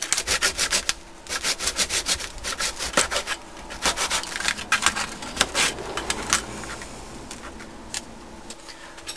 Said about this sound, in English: you take your saw and you cut these little tabs off